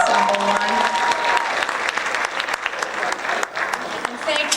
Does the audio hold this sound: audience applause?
yes